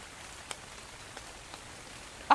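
Steady rain hisses in the ARK survival video game, with a few soft drop-like ticks scattered through and a brief louder knock at the very end.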